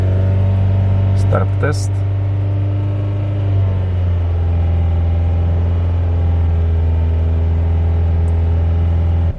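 A car engine on an Ancel BM300 PRO battery and alternator test, held steady at 2500-3000 RPM with the headlights off, gives a loud, continuous hum throughout while a voice speaks briefly near the start.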